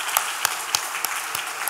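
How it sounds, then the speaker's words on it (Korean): Church congregation clapping together in a brief burst of applause, a bright, full patter of many hands with a few sharper claps standing out. "박수 한번 드리겠습니다"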